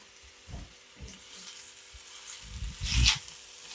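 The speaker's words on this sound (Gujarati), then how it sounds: "એકવાર આપણે ભીંડીને ચલાવી લઈશું" Okra (bhindi) in a spiced besan masala, stirred and frying in a pan: a close, steady sizzle with soft scraping stirs and a louder spatter near the end.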